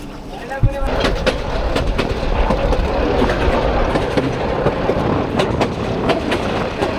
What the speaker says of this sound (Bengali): দেখেন ভাই ট্রেনটা কি পরিমাণে ঘুরতেছে এখন অনেকটা স্পিড আপ করতেছে